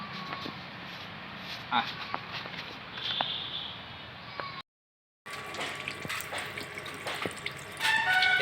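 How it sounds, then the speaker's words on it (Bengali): Jackfruit core is washed in water, with running and splashing water in short bursts, a brief dropout midway, and speech present throughout. "এবারে কাঁঠালের মুসিটি ভালো করে ধুইয়া লইতেছে"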